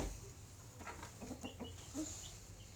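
Chickens at a small poultry farm give soft, scattered clucks, faint and close together over a low background hum.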